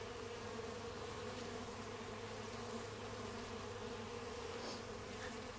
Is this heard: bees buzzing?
yes